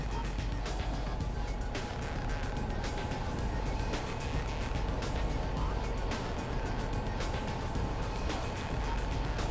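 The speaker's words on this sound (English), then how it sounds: "I find it's easier if I first engrave the design before the actual cutting." Dremel rotary tool engraving a design into a computer case panel, a steady continuous high-pitched whine with a dense broadband grind held at an even loudness throughout, close and alone.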